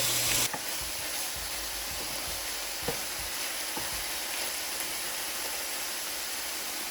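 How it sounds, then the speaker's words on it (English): Chopped onion sizzling steadily in a hot pan, a constant close frying hiss with a louder burst at the start as it hits the oil, plus occasional soft scrapes and clicks from stirring. "Thrown in my onion, and I'm going to give it a turn now."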